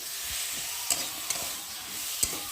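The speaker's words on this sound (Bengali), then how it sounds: "আর এখন দিয়ে দেবো একটা টমেটো কুচি আর কটা কাঁচা লঙ্কা, আর দিয়ে দেবো স্বাদ মতো নুন, দিয়ে ভালো করে একটু কষিয়ে নেব।" Chopped tomato, green chillies and salt fry and get stirred in a pan, giving a steady close sizzle broken by a few sharp scraping stirs of the spoon.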